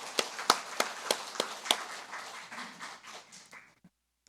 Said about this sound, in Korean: 우리 성가대를 위해서 다시 한번 우리 축복의 박수 해주시기 바랍니다